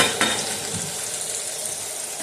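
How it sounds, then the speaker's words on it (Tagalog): Wagyu steak frying in a pan, with a steady close sizzle and crackle throughout and a brief clink of a utensil near the start. "Cooking the Wagyu steak."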